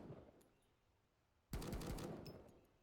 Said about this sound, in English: the gun shooting kind of ruins the environment feel